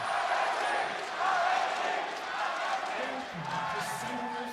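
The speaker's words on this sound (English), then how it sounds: "A lot of cheers in the crowd for RNG." A large arena crowd at the 2016 League of Legends World Championship quarter-final in Chicago cheers and roars steadily, a broad wash of noise with scattered whoops throughout.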